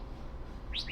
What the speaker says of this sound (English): God, that bird's annoying.